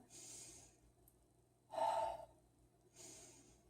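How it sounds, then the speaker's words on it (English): During yoga practice, slow deep breaths are heard close and soft, with a breathy exhale at the start, a louder inhale in the middle and another long exhale at the end, in a quiet room. "Two more nice deep breaths."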